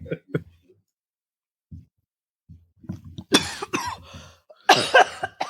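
A person's dry cough: a couple of soft throat noises, then two sharp, close coughing bursts near the end, with no talking.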